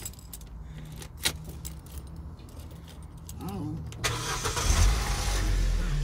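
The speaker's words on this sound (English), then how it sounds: "Turn your ignition on" A Vauxhall Corsa D: keys jangle and click in the ignition, then the engine cranks and catches partway through, settling into a steady idle. A voice speaks briefly.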